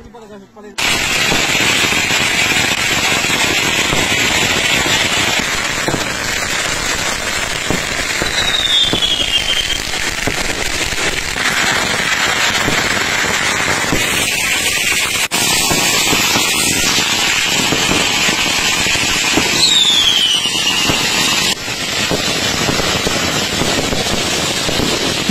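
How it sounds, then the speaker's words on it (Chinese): Long strings of firecrackers set off at a rural Chinese funeral in Huanggang, Hubei, crackling loud and dense without a break for over twenty seconds, with voices faintly audible beneath. "用这种鞭炮声炸走了这满天的晦气"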